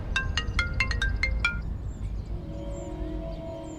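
A bright electronic mobile phone ringtone plays a quick run of repeated tones for about a second and a half, then stops, leaving a quiet background hum.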